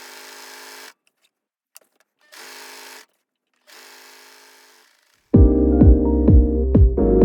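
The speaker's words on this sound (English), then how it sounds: "I'm going to try sewing it on the bottom here." A sewing machine stitching a scarf onto an upcycled flannel duster: a few short bursts of quieter whirring with pauses, then a loud, close, steady run with rhythmic mechanical clatter, with no talking.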